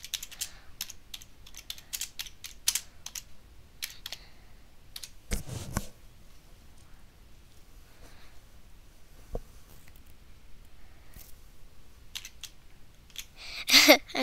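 Sparse computer-keyboard typing during an Among Us session on the Airship map, scattered soft clicks with long gaps and a louder burst near the end, no speech.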